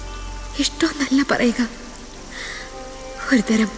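Heavy rain roars as a steady background hiss while a voice speaks over it in short phrases, the downpour staying constant beneath the talk throughout.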